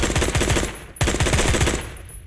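An AK-47 fires in the shooter game Phantom Forces, a loud, close string of rapid shots in two quick bursts, each crack landing in an even rhythm, alone without talk.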